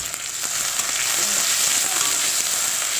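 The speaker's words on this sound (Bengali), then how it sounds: "এটা আমি হালকা মতন ভেজে নেব" Chopped onion, garlic and green chili fry in hot oil with dried red chilies and black cumin seeds for a Bengali drumstick-leaf dish. A steady, close, even sizzle runs throughout with no talk.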